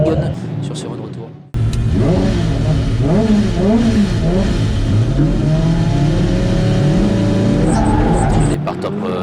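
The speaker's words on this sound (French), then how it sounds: "C'est la BMW E30 Kenda qui sera face à la Toyota Supra Freegun sur ce run retour." Drift cars, a BMW E30 and a Toyota Supra, revving hard at a French drift championship battle, engines rising and falling in rapid bursts, loud and near, with a commentator talking over them.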